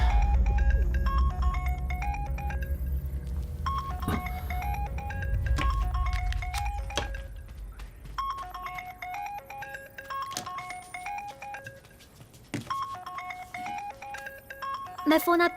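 A melodic phone ringtone plays a repeating tune of bright electronic notes, with low background music and voices underneath.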